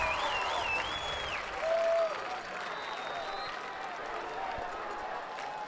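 A high school football crowd at the Cotton Bowl, Southlake Carroll against Jenks, roars and cheers as a broad, continuous wash of noise, while whistles and a commentator's voice cut in over it.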